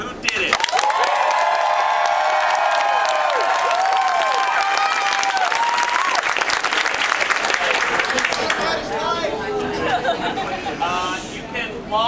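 Applause and cheering from a crowd at a closing party on a cruise ship, sustained clapping mixed with shouts and chatter, loud and dense throughout.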